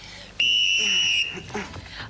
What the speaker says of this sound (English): When I blow my whistle, Put your flags in the band castle of your choice